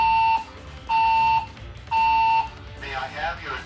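A building fire alarm beeps in three loud, steady tones of about half a second each, evenly spaced, before a voice begins an evacuation announcement.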